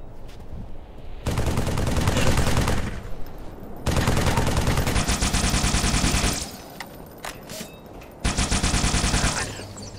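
Bursts of gunfire in a Halo 3: ODST firefight at NMPD HQ: three long, loud volleys of rapid automatic fire, each lasting one to two seconds and separated by brief lulls with scattered single shots.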